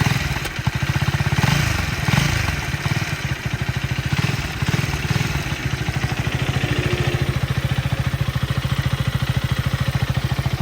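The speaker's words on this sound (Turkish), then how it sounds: "Biraz sizin için gaz vereyim." A 2024 Husqvarna Svartpilen 250 motorcycle engine runs loud and close on a warm day, its steady throbbing firing pulses rising briefly with throttle blips before settling back to a rough, even idle.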